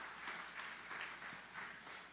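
A congregation applauds inside a church during a sermon, a steady wash of many hands clapping at moderate distance in a few rolling swells, with no voices over it.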